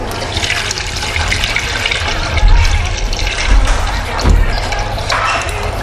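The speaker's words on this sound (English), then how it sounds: "I'm going to pour this inside now." Liquid is poured into a cooking pot for Nigerian black soup in a home kitchen, a loud continuous splashing gush lasting several seconds with swells and sloshes.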